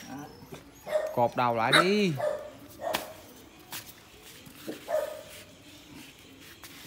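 A dog barks several times at close range around a backyard banana plant in Vietnam, the barks mixed with whimpers while people talk nearby in Vietnamese.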